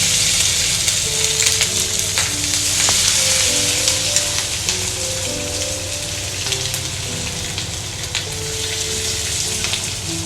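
Beef frying in coconut oil for a dry beef chilli, with a loud, continuous sizzle full of crackling pops that stays steady throughout, with no voices.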